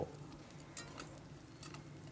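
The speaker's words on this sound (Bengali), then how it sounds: "এবার দিয়ে দিলাম আদা বাটাটা। যাতে আদার কাঁচা গন্ধটা চলে যায় ততক্ষণ একটু নেড়ে নেব।" Ginger paste sizzles softly in a hot pan while a utensil stirs it, a faint, steady frying hiss with light scraping taps.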